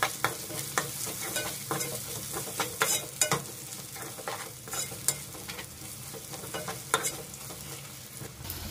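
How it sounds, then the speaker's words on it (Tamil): Ginger garlic paste sautés in a pan for a squid gravy, a steady close sizzle broken by frequent scraping stirs of the spoon, with no voices. "இஞ்சி பூண்டோட பச்சை வாசனை போகிற வரைக்கும் நல்லா வதக்கிக்கோங்க"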